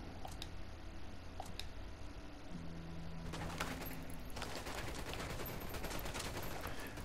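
P90 submachine gun fire in Ghost Recon Wildlands: a few sharp, clicky shots early on, then a longer dense burst of rapid fire that continues to the end at moderate loudness.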